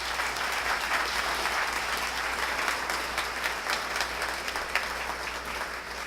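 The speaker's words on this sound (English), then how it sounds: "Give him a round of applause." An audience at the dedication and open house of a fine arts academy breaks into sustained, dense applause, many hands clapping steadily at an even level for several seconds.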